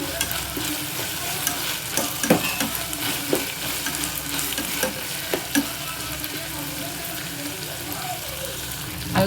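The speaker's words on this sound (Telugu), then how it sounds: "ఇది కూడా బాగా కొంచెం వేగనిచ్చేద్దాం పచ్చివాసన పోయే వరకు వేగితే సరిపోతుంది" Ginger-garlic paste fries in a pan with a continuous sizzle, broken by repeated scraping stirs and occasional clicks of the spoon against the pan, and a faint voice in the background.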